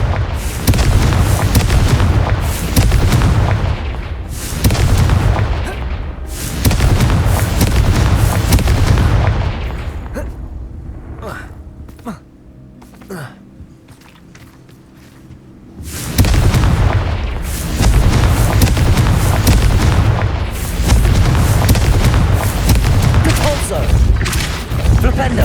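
Repeated Confringo fire spells burst in Hogwarts Legacy combat, loud booming explosions piling up in dense waves with a quieter lull in the middle, mixed with other spell blasts and clatter.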